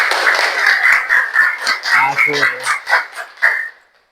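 A class of children applauds for a student named Amel in a school gym lesson, a loud close run of many hands clapping that swells and then fades out, with voices mixed in.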